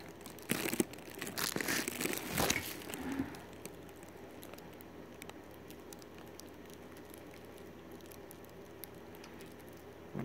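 A knife cuts through a bar of Aleppo soap made from olive oil and laurel berry oil, giving a few faint scraping and crackling strokes near the start before the sound settles into quiet room noise.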